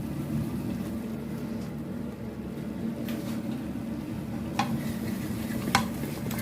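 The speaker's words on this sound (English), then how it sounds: "So stir all that around, and let that cook out for a couple of minutes" A spoon stirs flour into a thick white sauce cooking in a pan for a fish pie, making a steady low scraping and bubbling with a few sharp clinks, and no talk.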